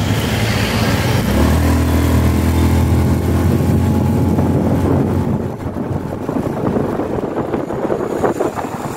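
Honda Beat FI scooter engine on a test ride after a full maintenance service, a steady loud hum with strong wind buffeting, easing slightly partway through.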